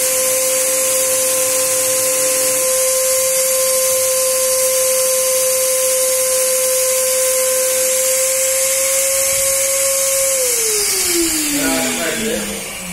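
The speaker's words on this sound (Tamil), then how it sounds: "ஸ்ப்ரே கன் போட்டு யூஸ் பண்றாங்க பாருங்க." A motor-driven spray gun blasts water to clean a dirty water tank, a loud, steady hiss over a constant motor whine that winds down and drops in pitch near the end.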